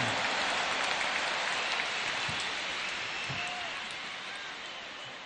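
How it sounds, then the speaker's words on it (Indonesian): A large crowd applauds at a big political rally for Gus Muhaimin. The clapping is a dense, roaring wash that stays steady, then slowly fades toward the end. "Tepuk tangan dulu yang meriah untuk Gus Muhaimin."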